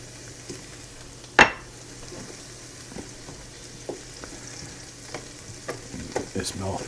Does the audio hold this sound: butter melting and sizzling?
yes